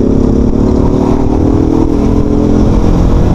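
A Shineray Rio 125cc fuel-injected motorcycle engine revs and accelerates loudly up close, a buzzing, rising drone with no talking.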